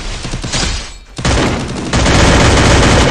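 Dense bursts of video game gunfire crackle loudly and continuously, with a brief lull before the rapid shots resume and hold to the end.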